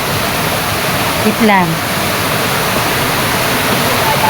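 Stream water rushes over rocks outdoors as a loud, continuous broadband wash close by, while a person speaks briefly over it.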